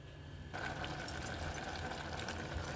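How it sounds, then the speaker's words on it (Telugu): A mixer grinder starts up and grinds a garlic and chili paste, a rough buzzing whir with a steady rattling churn that kicks in after a quiet moment and carries on close and fairly loud. "ఇప్పుడు దీన్ని మిక్సీ పట్టేసుకుందాం."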